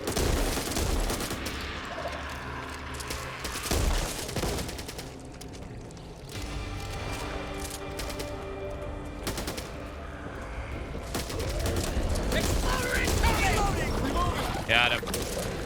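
Shotgun fire in the video game Back 4 Blood, heard as repeated loud blasts amid chaotic gunfire and horde noise, with someone talking over it.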